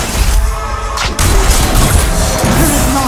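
A turret crumbles in a League of Legends: Wild Rift match, a heavy crash and boom landing about a third of the way in, surrounded by dense, busy game effects.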